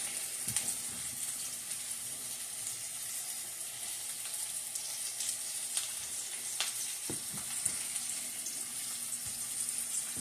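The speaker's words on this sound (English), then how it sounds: "and then they'll sear again on the other side" Lean turkey Salisbury steak patties sear in a hot pan with a steady, even sizzle, broken by a few soft clicks and taps of handling near the stove, with no voices.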